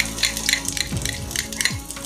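Garlic sizzling in a pan for squid adobo in coconut milk, with crackling spatters and a few metal utensil scrapes and clinks, close and fairly quiet.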